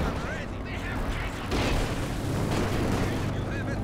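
Artillery airbursts raining on anti-tank guns in the World War II strategy game Company of Heroes 2, a dense, continuous roar of blasts and gunfire, with a commentator talking over the battle.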